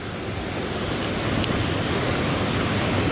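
Powerful swirling river water rushing through the narrow rock channel of the Strid, a loud, steady broadband roar with no breaks, close and continuous.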